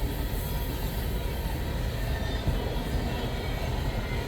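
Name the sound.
CN freight train passing south of Ladysmith, Wisconsin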